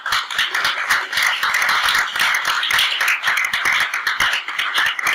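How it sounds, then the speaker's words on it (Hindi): Applause after a Thursday church message, a dense, even crowd clapping heard up close, steady and sustained through the whole stretch with no talk over it. "जोरदार तालियां"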